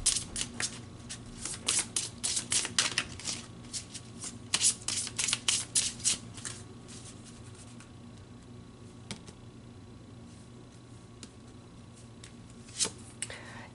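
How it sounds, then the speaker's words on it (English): Tarot cards being shuffled up close make rapid bursts of riffling and flicking, dense for the first six seconds, then thinning to occasional soft card taps and a final flurry, with no talking. "Let's pull a card and see what your soul is telling you for this week."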